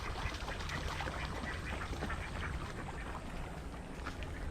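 Ducks kept near a pasture quack in a dense, continuous chorus, close and steady throughout, mixed with a constant outdoor background hiss.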